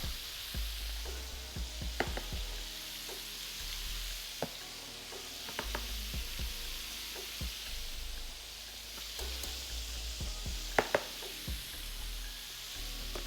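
Shrimp frying in hot oil for crispy fried shrimp, a steady soft sizzle and crackle with scattered sharper pops, continuous and moderately close with no talking.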